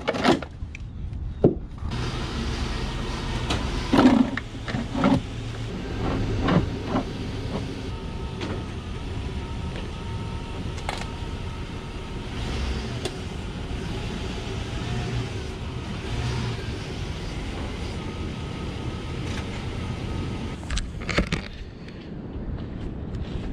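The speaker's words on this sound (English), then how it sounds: "what do you say we get these things set up and drive this thing on top?" Chevrolet Tahoe rolling onto Harbor Freight car ramps, a continuous engine and tire rumble lasting throughout with occasional creaks and clunks over a steady low drone, no talk.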